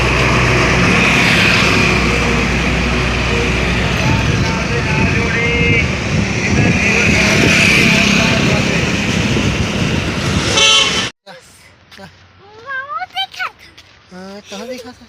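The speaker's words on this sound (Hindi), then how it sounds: "24 घंटा इसमें गाड़ी चलता है।" Loud, dense roar of road traffic on a busy road that never stops, with vehicles rumbling close by for about eleven seconds before cutting off abruptly, followed by a person speaking over quieter background.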